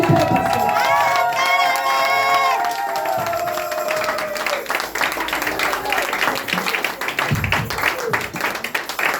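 A church congregation at a Sunday service cheers and shouts in praise of the Lord, a loud crowd roar with sung voices and scattered claps, steady and close throughout.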